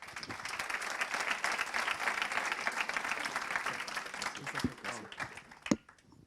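Audience applause at a regional business awards ceremony in the Pyrénées-Orientales, a full round of clapping that thins out near the end, with a few isolated louder claps.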